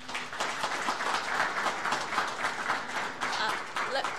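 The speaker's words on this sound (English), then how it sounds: "Round of applause for NC3." Audience at a technical college signing day event applauding, a continuous burst of clapping from a sizable crowd with slight swells, fairly close and loud.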